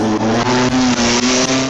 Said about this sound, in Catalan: És un Fórmula Renault del 96.